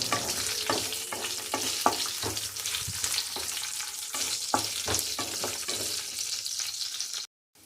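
Sliced onions and green chillies frying in a hot pan give a steady close sizzle, with regular stirring scrapes cutting through it before the sound stops abruptly at the end.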